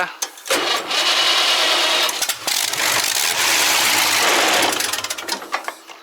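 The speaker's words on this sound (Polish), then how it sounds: "Pora wykonać test, uruchomić ten drugi silnik." A heavy tractor engine cranks and roars to life, running loud and rough for several seconds before its noise drops away.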